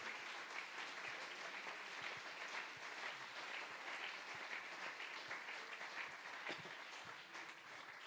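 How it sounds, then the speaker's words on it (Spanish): Steady applause from a church congregation during a sermon, sustained dense clapping at an even level throughout, with no voices standing out. "Dele ese aplauso al Señor"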